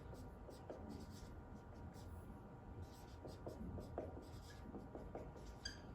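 Equations are written out by hand, with soft scratchy pen-on-paper strokes in short bursts, close and quiet beneath a person talking.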